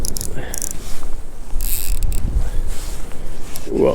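Drag of a Sembo 117 Air BFS fishing reel clicking as line is pulled off, a steady mechanical ratcheting close up and fairly loud, running continuously without talk.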